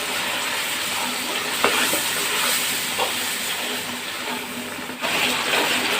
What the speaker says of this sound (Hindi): अच्छी तरह से चमचा चलाइए।